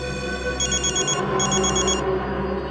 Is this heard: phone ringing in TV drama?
yes